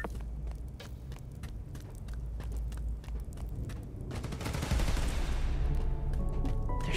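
Rapid bursts of automatic gunfire crackle in Marvel's Spider-Man: Miles Morales, sharp repeated shots at a steady rhythm that thicken into a dense, louder fusillade toward the end, with no talk over them.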